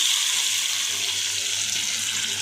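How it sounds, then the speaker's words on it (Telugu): Salted, turmeric-coated prawns go into hot oil in a pan over a medium flame, giving a loud, steady, broadband sizzle and hiss that holds unbroken with no talking over it. "మనం ఉప్పు పసుపు కలిపి ఉంచుకున్న రొయ్యల్ని ఈ ఆయిల్లో వేసుకుందాం"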